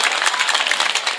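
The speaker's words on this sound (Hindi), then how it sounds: "जरा एक बार जोरदार तालियां बजाकर बताइए मुझे जिंदा है आप" An audience at a mushaira breaks into dense, sustained applause, many hands clapping loudly together without pause.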